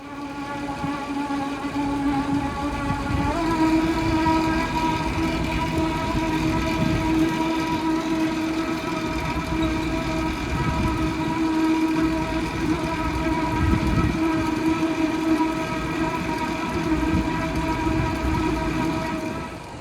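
A Fendt 724 tractor runs steadily with a Massey Ferguson RB156 baler attached, out in a hot field. A loud, continuous engine drone with a constant hum fills the scene up close, with no talking.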